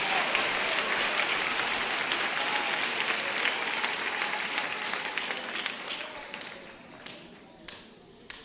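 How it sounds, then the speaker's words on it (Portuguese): Sustained applause from a church congregation, dense and steady at first, then thinning out with a few scattered claps near the end. "Vocês têm uma salva de palmas para o doutor Jesus aí?"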